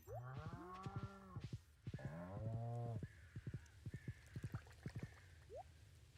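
Cows mooing in a video game: a few long, drawn-out moos up front, then irregular tapping and clicking sounds, moderately loud and near, with no talking.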